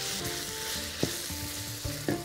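Peppers frying in a pan for a Mexican chicken casserole, giving a steady close sizzle with a few short stirring knocks and scrapes, no voices.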